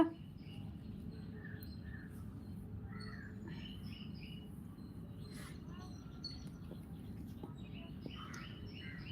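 Small sparrows chirp and squawk in short scattered calls over a steady low outdoor rumble, fairly faint and continuous throughout, with no talking.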